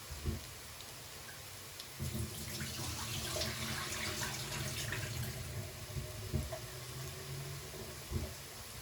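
Rice rinsed in a kitchen sink under running tap water: a steady hissing splash of flowing water with occasional clunks of the pot or bowl, close and moderately loud, with no talking.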